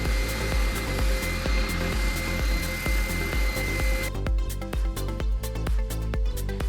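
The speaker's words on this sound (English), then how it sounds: "a spindle sander isn't the best sander for outside curves, but since this is a small piece and I'm using the larger spindle" A spindle sander on its larger spindle works a small wooden piece for a mason jar candle holder, a loud, close motor drone pulsing in a regular rhythm, its tone shifting partway through as the wood presses against the drum.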